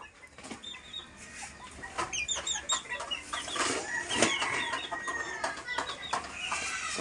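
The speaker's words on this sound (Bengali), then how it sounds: "এই যে একটা মোরগ" Chickens cluck and chatter with a rooster among them, wings flapping now and then, in a steady close farmyard clamour of overlapping bird calls.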